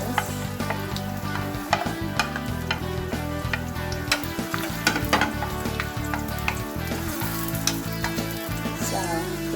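Garlic and onion frying in hot cooking oil in a home kitchen give a loud, steady sizzle with crackling pops and occasional stirring scrapes throughout, and nobody speaks.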